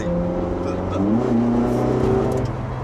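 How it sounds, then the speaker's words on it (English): A sports car engine revs up under throttle on a public road, its pitch climbing and holding in a steady, loud drone close by. "I feel guilty opening the throttle on public roads"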